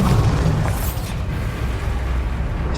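A Bombarda spell explodes in Hogwarts Legacy with a loud, deep boom up close that rumbles and fades over a few seconds, with no talking.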